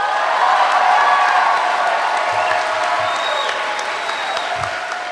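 An audience of 1,500 people on their feet, hooting, cheering and clapping in a large hall; dense, sustained applause with whoops, steady and loud throughout.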